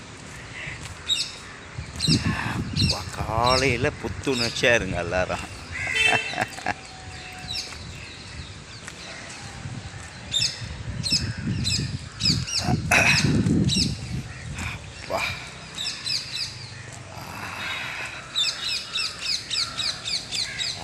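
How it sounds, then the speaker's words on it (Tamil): A parrot squawks and calls repeatedly outdoors on a morning walk, sharp cries scattered among other bird chirps, with someone speaking in Tamil over them. "பாருங்க வந்தோடனே கிளி கத்துது."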